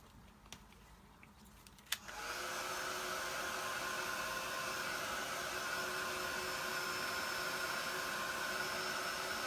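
Hair dryer blowing on textured paint on a canvas, switching on after a couple of faint clicks and then running steadily and loudly with a constant whooshing drone to the end.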